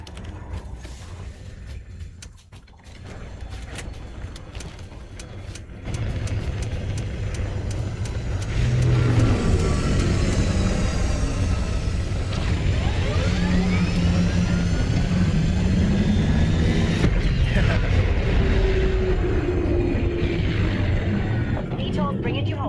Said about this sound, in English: VTOL's bringing you home.